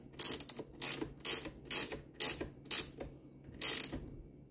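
A ratcheting wrench on an 18mm muzzle device clicks through seven short, sharp bursts of pawl ratcheting, evenly spaced with one longer pause before the last, close and clear with no talking.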